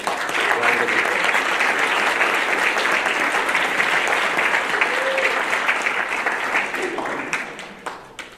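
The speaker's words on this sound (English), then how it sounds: "I'd like you to please join me in giving a round of applause." A conference audience claps in sustained, dense applause that holds steady, then thins and tapers off near the end.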